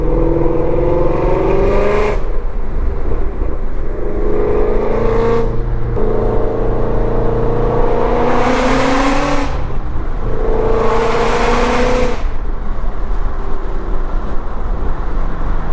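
A Ford Shelby GT350's engine revs hard from inside the car, several rising runs up through the gears with brief dips at each shift, loud and raspy over constant road rumble.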